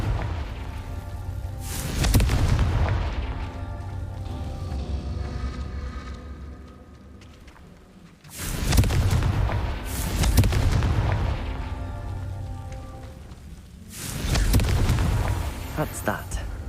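Confringo fire spell blasts in the Hogwarts Legacy video game, three heavy booming explosions spaced several seconds apart, each a loud broadband burst with rumbling tails, over a steady game music and ambience bed.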